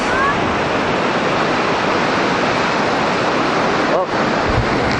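Ocean surf at New Brighton beach roars steadily and loudly, blended with heavy wind buffeting the microphone, forming a dense wash of noise.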